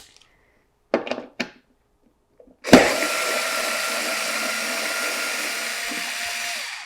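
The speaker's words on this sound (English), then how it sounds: "we are now going to remove these middle screws here" A power screwdriver removing the middle screws from a SNOO smart bassinet: a few short clicks and handling knocks, then a loud continuous motor whir that runs steadily to the end.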